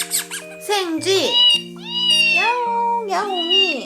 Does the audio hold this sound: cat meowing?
yes